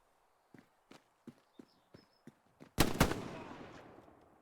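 BAR machine gun firing in an 18-versus-18 multiplayer war game: a steady run of single sharp shots at an even rhythm, closing with a loud, close burst that rings out and fades.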